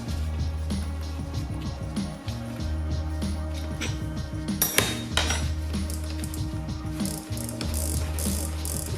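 Bicycle freewheel being unscrewed counterclockwise off a wheel hub with an extractor tool, rhythmic metallic ratcheting clicks and clanks close up, repeating in bursts with brief pauses.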